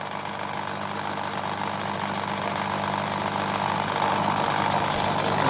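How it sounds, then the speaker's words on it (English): A milling machine at about 1000 RPM cuts a flat on a small metal part for a finger engine, giving a steady, continuous mechanical hum and grinding whir that holds evenly from start to finish. "We're going to mill that flat, hopefully. Yeah, speed about 1000 RPM,"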